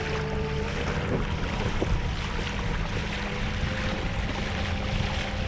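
A motorized kayak runs on open water during a motor test, its steady engine drone and hull rumble continuous and fairly loud, mixed with wind buffeting the microphone and water wash, with no talking.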